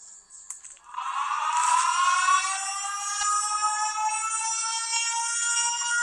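A siren winds up after a moment of quiet, rising steeply in pitch, then holds a loud, steady wailing tone that carries on without a break, with no one talking over it.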